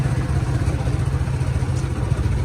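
A Bajaj 125 motorcycle engine runs close by with a steady, low, throbbing putter. Its tone stays even the whole time, and there is no talking.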